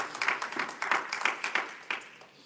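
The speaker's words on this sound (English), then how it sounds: "Let's give the Lord a hand clap of praise." A church congregation at Sunday school claps hands in praise, producing faint, roughly rhythmic bursts of clapping heard from a distance.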